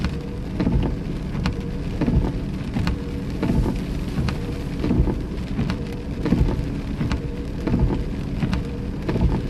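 Heavy rain pours steadily during an ice storm in Iowa, a dense, loud hiss of drops drumming on surfaces throughout with no pauses and no voices.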